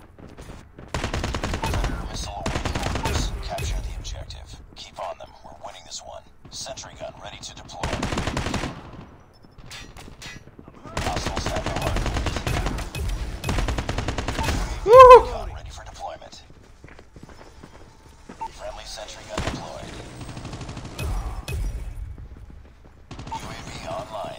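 AK47 automatic fire in Call of Duty Mobile: several loud sustained bursts separated by short pauses, with voices talking between volleys.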